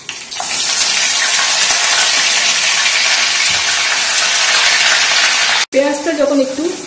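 Ground onion paste hits hot oil with a loud, steady broadband sizzle that fills the whole stretch, breaking off briefly near the end before a short burst of clattering and a faint voice.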